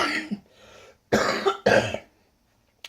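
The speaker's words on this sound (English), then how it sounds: "I'm about to cough really hard right now." A person coughs hard twice in quick succession, loud and close, after a softer throaty cough and breath, then silence.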